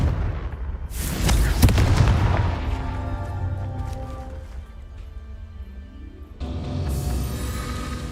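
Confringo fire spell blast in Hogwarts Legacy, a sharp booming burst that rolls into a fading rumble with ringing tones, followed by a second swelling whoosh near the end.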